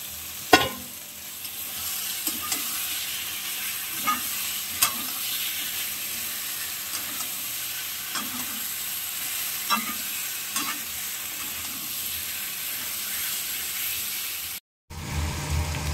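Chicken pieces fry in an oily spice masala that has begun releasing its oil, with a steady close sizzle broken by rhythmic scraping strokes of a spoon about every two seconds, then a brief cut near the end.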